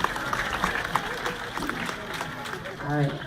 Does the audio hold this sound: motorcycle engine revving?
no